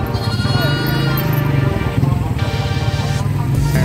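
Goats bleat over and over at the San Carlos City livestock market, wavering cries close by mixed with crowd chatter and traffic noise, while someone speaks throughout.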